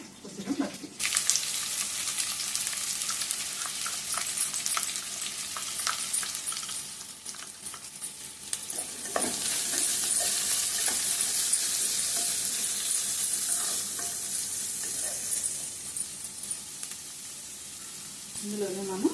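Green chilies fry in hot oil in a pan while mango chicken is being made, a steady crackling sizzle that swells and settles, broken by occasional clinks and stirring scrapes.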